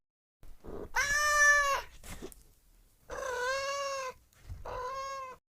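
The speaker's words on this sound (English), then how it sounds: "I say meow. I love to chase mice. And I purr when I'm happy." A cat gives three loud, drawn-out meows close by, with short silent gaps between them and no other sound.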